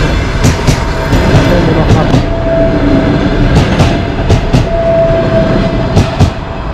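A Moscow–Adler passenger train rolls past at Lazarevskoye near Sochi, its carriages giving a steady loud rumble with repeated clickety-clack wheel beats, sounding close throughout.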